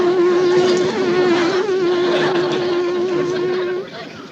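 A human voice hums a steady, buzzing drone imitating bees, holding one pitch for several seconds before trailing off.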